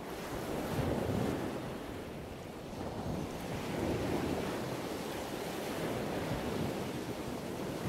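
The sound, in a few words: sea waves breaking on the shore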